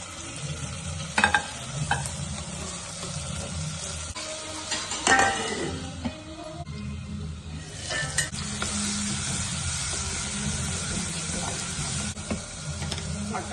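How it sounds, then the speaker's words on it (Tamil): Onions and tomatoes sauté in a clay pot, a steady close sizzle with stirring scrapes and a few clinks of a utensil against the pot rim, the frying swelling louder toward the end; no talking. "வந்து வெங்காயம் தக்காளி வதங்கிடுச்சு"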